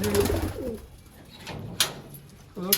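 Soft pigeon coos come in short, repeated phrases, close by, with a few brief clicks and rustles between them.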